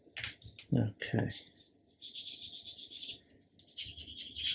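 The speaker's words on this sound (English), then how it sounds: "So just polishing it up with a smooth polishing stick." A smooth polishing stick rubs a plastic model kit part from a 2023 new-tool Airfix Ferret in steady back-and-forth scratchy strokes, close up, with brief speech at the start.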